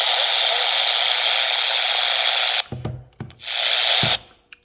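A ROSS RE-999 walkie-talkie receiving an incoming call gives a loud, steady hiss of radio static, then breaks into short crackles and squelch bursts before the static briefly returns and cuts off.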